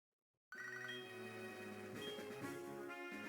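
A chiming electronic phone ringtone from the Pokemon SoulSilver video game starts suddenly after a brief silence and plays as a bright melodic jingle.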